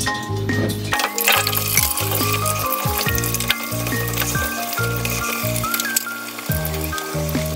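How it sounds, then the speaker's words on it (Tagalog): Potato and carrot pieces frying in hot oil in a pan, a continuous close sizzle broken by scraping and light clinks from a utensil moving the food around, no voices. "i-prito muna natin itong patatas at saka carrots"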